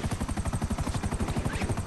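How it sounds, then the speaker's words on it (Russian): A helicopter in the video game GTA Online, a steady, loud rotor chop beating rapidly and evenly throughout, close and continuous with no talk over it. "он будет вертолет, вон он"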